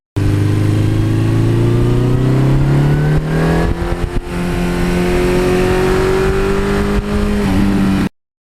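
A 40-year-old Suzuki GS1100E motorcycle engine on the move, close and loud, its droning tone climbing steadily as it accelerates, briefly dipping and then pulling on again before cutting off abruptly.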